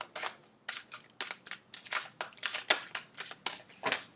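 A series of about a dozen crisp riffling bursts of tarot cards being shuffled close by, repeating in a steady rhythm with brief pauses between.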